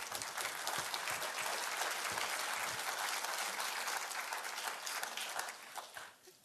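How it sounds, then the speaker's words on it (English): An audience at an educational seminar on precious metals breaks into dense, steady applause for a speaker, holding full and even for several seconds before quickly fading at the end. "Please give her a huge round of applause"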